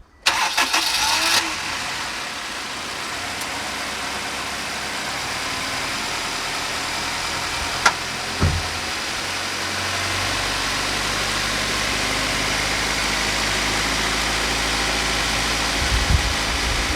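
An old Honda CR-V engine cranks and fires after a thermostat and sensor replacement, then settles into a steady, even idle with a couple of brief blips, heard up close.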